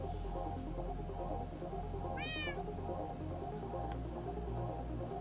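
A single short cat meow, clear and fairly close, rises and falls once over a steady low hum of background noise in a Minecraft server session.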